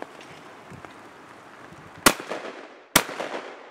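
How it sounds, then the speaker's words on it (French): At a clay shooting range at the Nîmes Shooting Club, a shotgun fires at a clay target with two sharp, loud reports about a second apart, each trailing into a short echo. "Très bien tiré, tu l'as cassé au premier coup."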